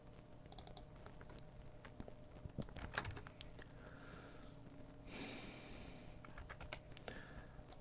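Keys on a computer keyboard tapped in short, irregular bursts while someone enters a link during data entry work, moderately close over a steady low hum, with no talking.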